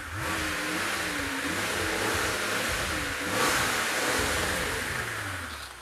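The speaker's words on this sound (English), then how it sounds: "Sometimes you gotta rev it up a little." A Mercedes CL65 AMG V12 engine revs up and holds a raised, smooth roar that swells briefly midway, loud and close, with no talking.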